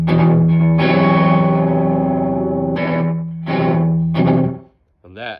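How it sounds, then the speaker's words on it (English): An electric guitar plays through a Danelectro Fab Echo pedal on a very dirty amp channel with heavy reverb, giving loud, sustained distorted chords that ring out and repeat as echoes, then cut off abruptly. "the Fab Echo Distort, the Fab Dan Electro, I almost called it the distortion because everything is distorted."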